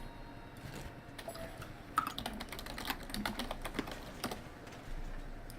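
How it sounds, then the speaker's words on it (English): Someone types on a computer keyboard, a quiet, close patter of irregular key clicks with occasional heavier taps, heard alone without speech. "I hear you typing."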